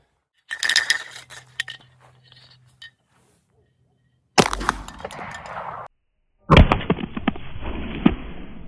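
Pistol shots in the dark at a spray can rattle-can trick shot, three loud sharp cracks a couple of seconds apart, each with a ringing, hissing tail, after a short stretch of faint rattling and clinking.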